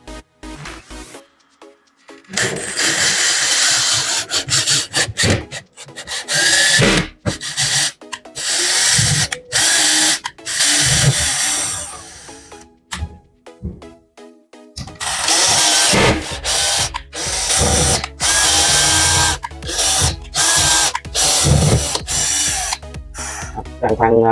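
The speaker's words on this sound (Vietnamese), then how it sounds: "Bạn khoan bằng con vít này luôn các bạn nha," A power drill driving a screw into wood, with repeated loud whirring bursts of a few seconds each, separated by short pauses and handling clatter, close up.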